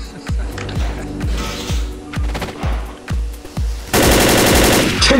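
Rapid gunfire from the video game Left 4 Dead, with bursts of regular shots in a steady rhythm and then a dense, louder sustained volley at the end, close and loud.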